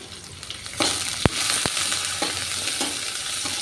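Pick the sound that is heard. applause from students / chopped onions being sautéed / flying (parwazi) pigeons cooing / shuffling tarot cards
chopped onions being sautéed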